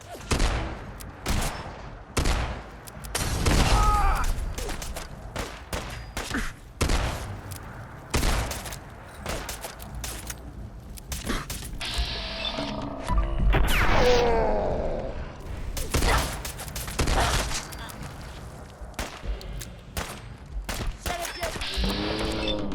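Gunfire from a weapon in the Fallout 4 video game, with repeated sharp shots and bursts scattered throughout, some loud and close, mixed with in-game crashes and effects, while a voice talks intermittently.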